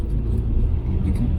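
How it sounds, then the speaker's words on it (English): MINI Cooper 1275 with an automatic gearbox cruising along, a steady low engine and road rumble filling the cabin without a break at moderate loudness. "But it is fun to drive a Mini again"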